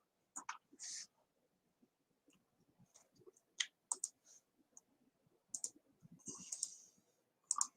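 Computer mouse clicks come close and sharp in irregular bursts, some single and some doubled, with quiet gaps between them and no talk.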